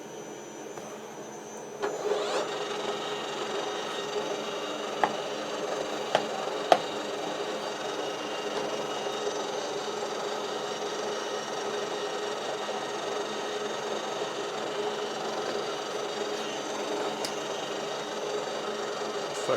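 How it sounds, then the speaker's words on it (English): A steady mechanical whir of a metal lathe running a centre drill into metal runs continuously, with a few faint clicks and knocks early on, no voices. "and then put a centre drill in it."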